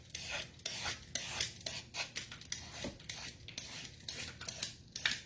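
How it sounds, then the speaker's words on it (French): A piece of pumpkin being peeled, heard as a close series of short rasping scrapes in an uneven rhythm, with no talking. "Donc, on peut tout éplucher le morceau."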